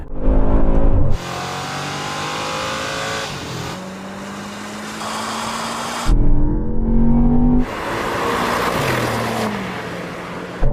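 A Mercedes-AMG G63 and a Land Rover Defender OCTA accelerate hard in a drag race, loud engine roars climbing through gears with brief shift breaks and short gaps, close and continuous.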